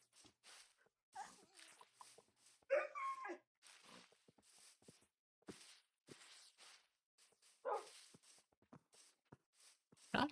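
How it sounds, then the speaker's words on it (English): Dogs in the video game Minecraft let out scattered whining barks and whimpers, short yips and cries coming in irregular bursts at moderate, fairly faint volume. "Not a big fan of the dogs that make whining barks."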